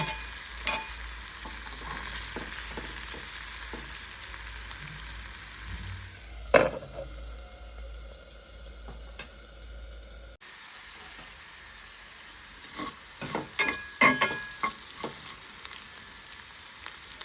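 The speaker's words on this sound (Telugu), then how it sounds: "ఈ రకంగా కొద్దిగా ముక్క మెత్తబడిన దాకా యాగనిచ్చి" Pieces of jackfruit seed fry in a pan with a soft, steady sizzle and occasional scraping stirs. The sound drops briefly partway through, then resumes, quiet and close with no voices.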